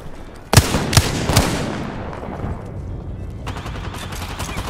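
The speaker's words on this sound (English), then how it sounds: "I am taking fire, friends." Incoming gunfire in a ranked video game match: three sharp, loud shots crack in quick succession, followed by a lower rumbling wash of battle noise.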